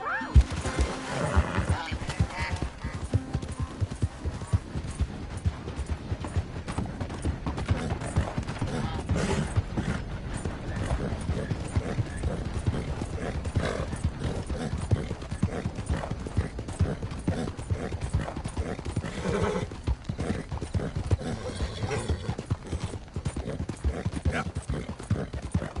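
Horse hooves clip-clopping at a steady gallop in a PS4 video game, a dense continuous rhythm with an occasional whinny, close and loud throughout, with game sound layered over it.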